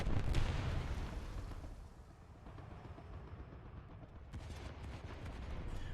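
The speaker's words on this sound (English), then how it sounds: "So that was our bomb that went off, and that's the damage we caused on the right there." In a naval video game, an armor-piercing bomb bursts on a ship with a heavy explosive boom. A rumbling roar fades and then swells again, followed by sharp crackling bursts, and nobody talks over it.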